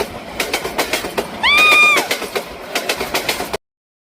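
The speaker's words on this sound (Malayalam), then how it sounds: "അല്ലെങ്കിൽ ട്രെയിൻ പോകും" A train runs on rails with a rhythmic clickety-clack of wheels over rail joints, loud and close, interrupted midway by a brief high screeching whistle-like tone before the clatter resumes and stops abruptly.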